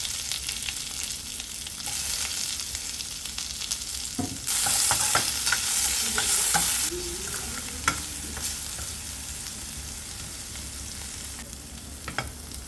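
Onions frying in oil with cumin seeds and curry leaves: a steady sizzle with scraping stirs and light clinks, swelling into a louder, hissing burst partway through before settling back. No one speaks.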